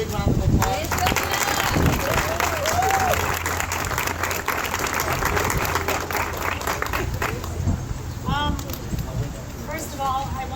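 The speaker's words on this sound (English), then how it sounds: "So let's give her a big round of applause." A crowd at a building's grand opening ceremony applauds throughout, a dense continuous clatter of hands with voices talking over it.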